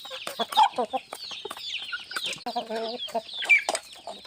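Several chickens cluck and murmur close by while eating, in short, irregular bursts, with occasional louder squawks among the flock.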